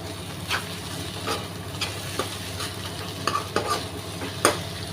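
Vegetable curry with turmeric frying in a pan, stirred in a steady series of scrapes and clinks over a constant close sizzle, with no talking.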